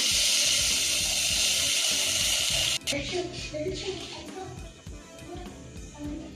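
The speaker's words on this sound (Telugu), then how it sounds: "సో ఇదే కప్పుతో నేను 6 కప్పులు వాటర్ అయితే పోస్తున్నాను" Water pours steadily from a cup into a pan of gram flour sambar, a strong rushing stream that cuts off abruptly, followed by quieter stirring and kitchen sounds.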